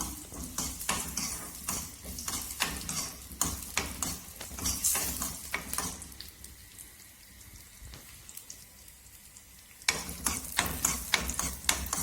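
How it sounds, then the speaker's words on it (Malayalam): Cashews and raisins frying in a pan for payasam, a steady bright sizzle broken by repeated scraping stirs, with a quieter stretch of plain frying in the middle before the stirring picks up again. "നമ്മുടെ കശോട്ടിയും മുന്തിരിയും കൂടെ നമ്മുടെ പായസത്തിലേക്ക് വറുത്തിട്ടാണ് നമ്മൾ ഇട്ടത്"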